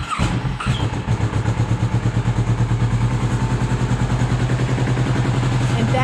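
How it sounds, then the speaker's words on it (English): A Kawasaki Vulcan S motorcycle engine cranks briefly, catches, then settles into a loud, steady, close idle with an even pulsing rumble and no talking. "let's crank the motorcycle"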